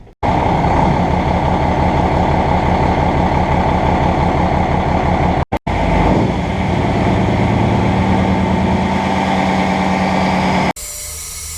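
A Cummins diesel truck engine running loud and close with a steady rhythmic idle, a brief cut partway through, and a constant hiss of air leaking under the engine noise.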